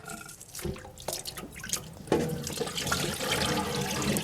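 Water splashes and trickles as it drains from shredded boiled pork in a kitchen. A few drips come first, then a steady, close pour of liquid runs on without any talking.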